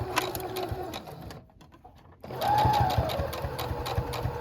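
A sewing machine back stitches through bulky fabric on a doll slipper, running with a rapid close rhythmic chatter, pausing briefly, then resuming steadily.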